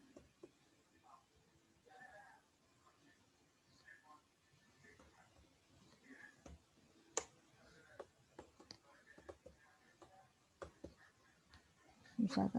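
Computer mouse clicks while entering data into a Microsoft Excel 2010 table, a series of sharp, light ticks scattered irregularly, getting more frequent toward the end, alongside intermittent speech at a quiet level.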